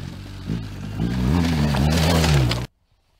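A 2021 BMW R 1250 GS HP Euro 5 motorcycle engine revs past 4000 rpm, its pitch climbing and holding loud for a couple of seconds before cutting abruptly to silence.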